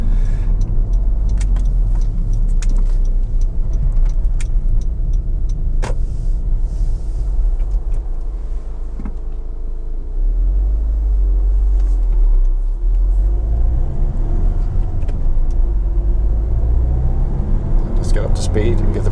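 Interior of a Honda Civic 1.6 i-DTEC SR Tourer diesel estate driving slowly behind a truck: a steady low road and engine rumble with tyre noise runs throughout, under continuous talking.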